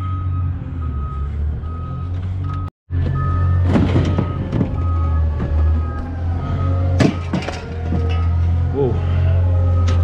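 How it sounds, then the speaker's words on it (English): Steady, loud reversing beeps from a truck repeat at an even pace over a rumbling engine, with a brief dropout partway through. "they don't have those beeping sounds on the trucks anymore"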